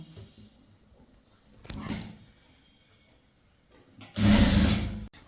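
Tailoring machine stitching chudithar fabric: two short bursts of sewing, a brief one near the two-second mark and a louder, steadier run toward the end, with quiet handling between.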